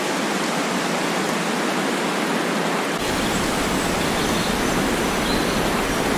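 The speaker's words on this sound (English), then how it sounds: "with multiple sound layers, we create a full soundscape with depth" A layered waterfall soundscape: a dense, steady rush of flowing water, thinner at first and then filling out with deeper body partway through, continuous and loud with no voices.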